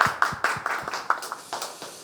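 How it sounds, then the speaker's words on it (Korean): Hands clap in a steady, fairly even rhythm, about four claps per second, close and moderately loud, from a small audience rather than a full roaring crowd. "박수 한번 주세요"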